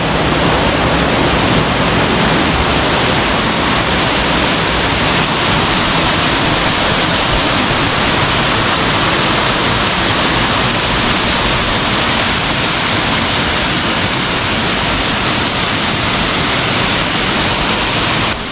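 A waterfall roars steadily from close range, heard from a path behind the falling water; a dense, loud, unbroken rush fills the whole clip with no voices.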